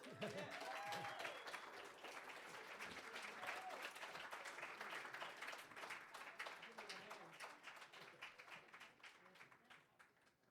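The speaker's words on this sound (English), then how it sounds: "let's get another round of applause for Orville there" An open mic crowd applauds Orville after his song, steady dense clapping that starts full and gradually thins and fades toward the end, with a few voices and cheers mixed in.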